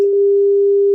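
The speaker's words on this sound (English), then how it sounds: "Okay, it's calling. It's not ringing." An outgoing phone call produces a loud, unbroken single-pitch line tone rather than a ringing pattern. It holds steady for the whole moment with nothing else audible.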